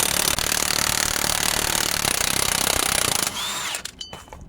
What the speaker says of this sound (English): I'm gonna proceed to take out the 30mm axle nut